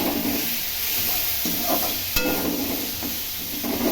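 A paste of garlic, ginger and green chili frying with onions sizzles steadily in the pan, with occasional stirring scrapes and one sharp click, and no voices.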